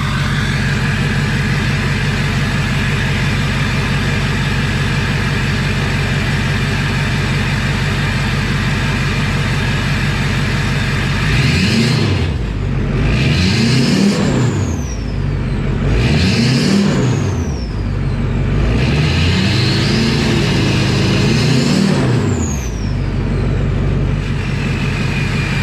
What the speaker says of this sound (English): So I can give it a couple revs.